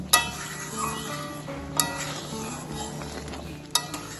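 Bitter gourd and pea lentil dal being stirred with sugar in a pot, giving a soft continuous simmer with a few sharp clinks of the spoon against the pot, close and alone.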